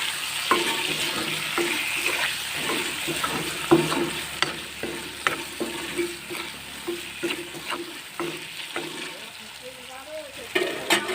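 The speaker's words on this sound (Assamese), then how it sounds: "পাঁচফোৰণ, ভালদৰে লৰাই লৈছোঁ" Panch phoron spices sizzle steadily in hot oil while being stirred, with frequent close scraping knocks of the spoon against the pan throughout.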